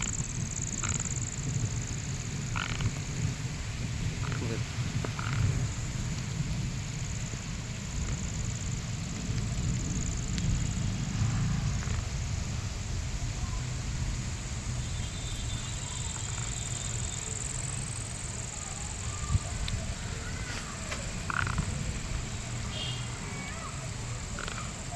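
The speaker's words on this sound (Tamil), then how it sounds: "மழை பெஞ்சிட்ருக்குது." Steady rain falls on a garden, making a continuous soft, broadband hiss throughout, with faint scattered chirps from small creatures in the background.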